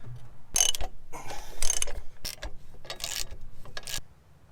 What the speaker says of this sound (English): I got them started, so let's get them tightened up but not torqued.